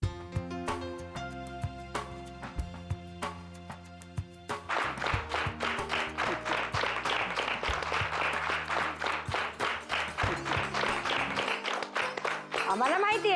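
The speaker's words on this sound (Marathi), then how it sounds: "आम्हाला माहिती आहे ह्या टाळ्या कोणासाठी आहेत ते" An audience breaks into sustained applause in a scene from a Marathi TV serial. The clapping rises after a few seconds of tonal music and continues as a dense, even wash with music still underneath.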